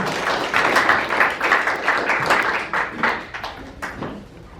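Audience applause in a hall at an Atlanta Korean Association team send-off ceremony for the Southeast Korean sports festival, greeting the association's board chairman as he comes up to speak; dense steady clapping that gradually tapers off.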